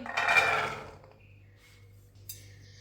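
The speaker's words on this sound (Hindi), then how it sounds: "2 गिलास पानी डाल लेते हैं।" Water from a glass splashes into a wok holding washed chickpeas, a short, loud rushing pour that tapers off within a second, followed by quieter faint clinks and near silence.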